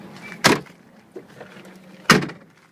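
The rear barn doors of a vehicle with a tow package swing shut in two solid, close thumps about a second and a half apart, with faint clicks and rustles between them.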